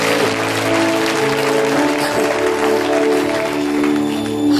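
A church congregation applauds, steady sustained clapping from a large crowd filling a hall, loud and continuous, with music and faint voices underneath.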